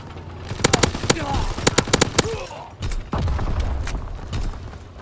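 Rapid bursts of automatic gunfire in the WW2 shooter Call of Duty: WW2, sharp close cracks in quick clusters, then a dense rumbling battle wash with shouted voices underneath.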